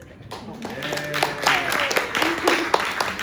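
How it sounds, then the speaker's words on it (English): A theatre audience at the King's Head Theatre gives scattered applause, with claps of moderate loudness mixed with a speaker's voice and a murmuring room. "And you can applaud that now"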